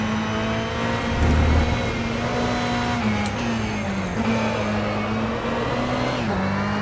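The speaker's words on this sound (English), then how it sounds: "The car's constantly feathered on the limit there. Anyway, that's the Ferrari 488 at Portland." Ferrari 488 GTE race car engine at Portland in the rFactor 2 sim, a loud steady high-revving drone with gear changes and slight pitch dips as the throttle is feathered through corners, no voices.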